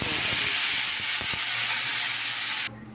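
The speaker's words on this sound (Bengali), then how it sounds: "পটলটা ভাজা হয়ে গেছে, দেখো কড়াইয়ে তেল রয়েছে।" Pointed gourd (potol) frying in oil in a wok, giving a loud, steady close-up sizzle and hiss that runs without a break and then drops off sharply near the end, with faint clinks of stirring underneath.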